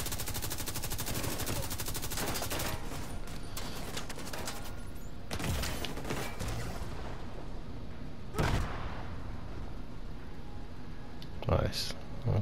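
Player's weapon firing in Division 2: Warlords of New York, dense rapid automatic bursts through most of the passage with a few louder sharp shots standing out, a voice talking over the game.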